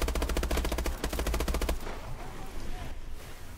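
Sustained automatic gunfire from a weapon in Call of Duty: Advanced Warfare rattles in rapid, loud bursts for under two seconds, then breaks off into quieter battlefield rumble and muffled background noise.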